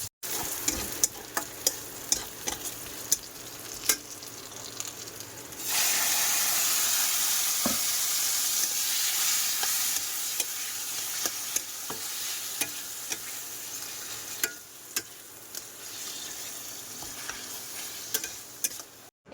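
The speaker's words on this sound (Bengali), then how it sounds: "দেখো কচু শাকে এখন কালো জিরে আর পেঁয়াজ দেবো" Taro leaves stir-fried in a pan with black cumin and onion, a steady sizzle that jumps louder partway through, with clinking stirring strokes throughout and no talking.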